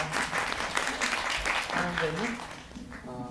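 Audience applause at a film library talk event in a cinema, a dense round of clapping from the crowd with voices speaking over it toward the end.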